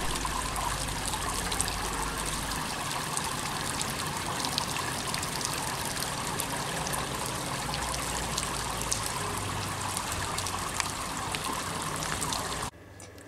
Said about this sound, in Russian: Маленький фонтанчик. В жаркую погоду игра воды дает свежесть и притягивает людей